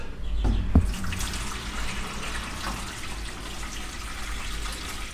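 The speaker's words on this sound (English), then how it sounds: "let's put some water in and see what happens" Water pours into a 5-liter plastic water drum in a steady, continuous splashing stream that holds at an even level throughout, close by, with no talking over it.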